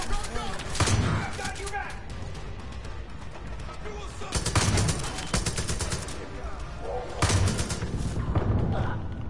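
Heavy in-game gunfire with shotgun blasts in Far Cry 5, three loud dense bursts of shots and impacts recurring every few seconds over continuous game noise, with people talking.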